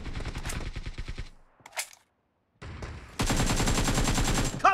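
Gunfire in the mobile battle game PUBG Mobile: rapid automatic bursts up close, a short gap, then a sustained loud volley of rattling shots.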